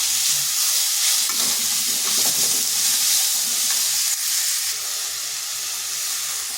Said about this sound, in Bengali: এগুলোকে কিন্তু অনবরত নাড়তে হবে যাতে নিচে লেগে না যায়।